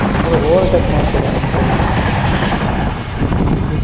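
A train on a rail line runs close alongside as another overtakes, a loud continuous rumble with rolling wheel noise and some wind buffeting throughout.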